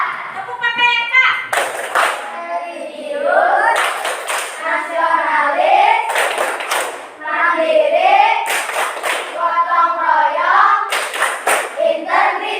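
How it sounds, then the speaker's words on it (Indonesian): Children in a classroom perform a rhythmic spirit clap, loud bursts of clapping in a set pattern that alternate with the group chanting together. "Coba tepuk semangat dulu."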